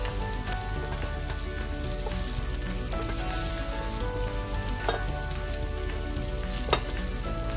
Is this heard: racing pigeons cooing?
no